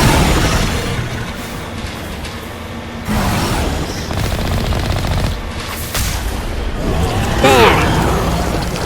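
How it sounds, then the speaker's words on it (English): A cannon fires and explodes in the video game Mass Effect, with two heavy booms standing out over a dense, continuous roar of combat noise, and voices speaking at times. "Fire the cannon, please"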